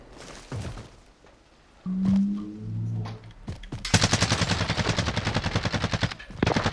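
Gunfire aimed at players in the Warzone video game: a few single cracks give way to a long, loud automatic burst of rapid, evenly spaced shots.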